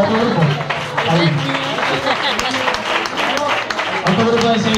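Audience applause at a live Spanish flamenco-style group show, a dense wash of clapping with cheering voices mixed in, steady and loud throughout.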